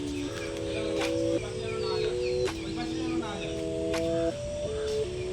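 Loose chickens clucking in short repeated calls close by in a rainy village yard, with voices and background noise underneath.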